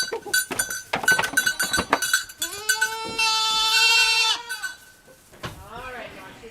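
A dairy goat at a milking stand lets out a long, loud bleat after a run of short clinks and knocks, then gives softer calls while a person talks nearby.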